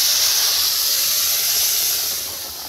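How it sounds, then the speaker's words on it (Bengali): Jackfruit goes into hot oil with onions and cumin in a village kitchen, raising a loud, steady steam-like hiss that eases off toward the end, close and without speech. "এখন কাঁঠালটা ঢেলে দিচ্ছি।"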